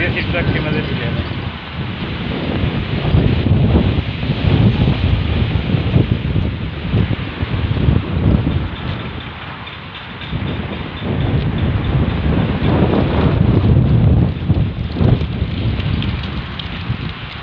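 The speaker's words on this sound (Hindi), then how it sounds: "सामने से तेज़ हवा है, गर्द है" Strong, hot, dusty wind buffets the microphone in a continuous loud roar with gusting swells and dips throughout, no clear voice over it.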